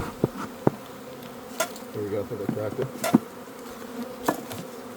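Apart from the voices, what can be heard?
bees buzzing at an opened hive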